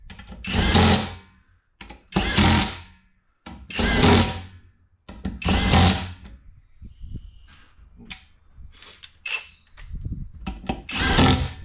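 A power drill with a Torx bit drives beadlock wheel bolts, working through them in a cross pattern in five loud whirring bursts of about a second each, then lighter intermittent whirs and clicks, close up.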